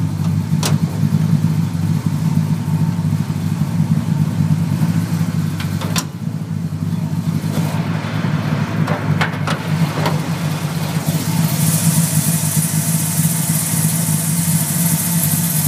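1978 GMC pro street race truck with a 383 stroker V8 and RPM headers idling loud and close, a deep lumpy rumble with occasional throttle blips.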